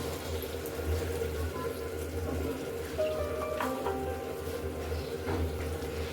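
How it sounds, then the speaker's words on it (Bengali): Water poured into a pan of shrimp curry to make the gravy, a steady low rushing pour with faint clinks over kitchen background, no talking. "এবার পরিমাণ মতো ঝোলের পানি দিয়ে দেবো"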